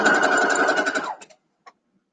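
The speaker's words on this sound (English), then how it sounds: "Okay, I'm going to sew these three together real quick." A sewing machine joining quilt squares for nine-patch blocks runs in a loud, steady whir for about a second, then stops, leaving a few faint clicks of fabric handling.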